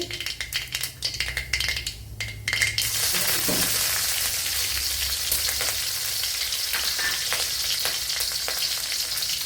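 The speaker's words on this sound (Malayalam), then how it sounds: "ഇപ്പൊ ഇവിടെ ഓയിൽ ഒഴിച്ചു കൊടുത്തിട്ടുണ്ട്. കടുക് കൂട്ടി" Mustard seeds crackle and sizzle steadily in hot oil in a pan while broken wheat upma is cooked, with a few utensil clinks before the frying settles into a continuous hiss.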